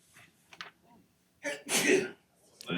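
Someone sneezes during a parish council meeting, first with a sharp inhale and then a loud burst, surrounded by faint room noise and a brief voice.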